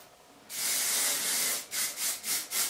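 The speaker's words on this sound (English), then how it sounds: "Oh, it's like a texture spray." A hair texture spray hisses close to the microphone in one long burst followed by three short, rhythmic puffs.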